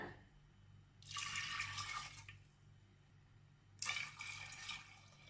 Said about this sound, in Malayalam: ഇനി നമുക്കിതിലേക്ക് ആവശ്യത്തിന് വെള്ളം ഒഴിച്ചു കൊടുക്കാം